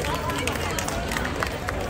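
A crowd at a Ganpati celebration program claps loudly for a third-place drama prize: a short, continuous wash of clapping mixed with crowd babble.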